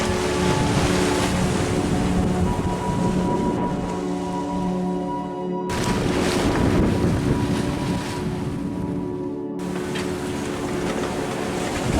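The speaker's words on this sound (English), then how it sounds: "We're sailing into Cape Canaveral under just perfect ocean and sailing conditions." A sailboat sails on the open ocean near Cape Canaveral after a Gulf Stream crossing, with loud, continuous wind buffeting, rushing water and hull noise, the roar briefly dropping out twice.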